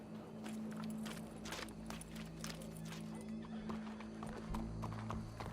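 Horse hooves clip-clop steadily in Red Dead Redemption 2, rhythmic and fairly close, over a low steady hum with an occasional whinny at a public execution scene.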